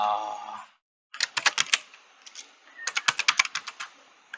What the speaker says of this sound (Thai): พิมพ์ชื่อแบบให้เราจำได้นะครับผม